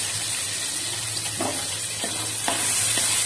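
Ginger, garlic and onion sizzle in hot oil, a loud, continuous close-up frying hiss broken by a few sharp stirring scrapes, with no voices.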